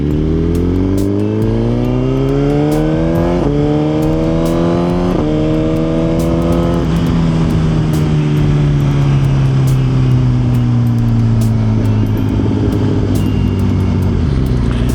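A Suzuki GSX-R1000 sportbike pulls away and accelerates hard, its loud, close engine note climbing through several gears with short dips at each shift, then settling into a steady high drone mixed with wind rush.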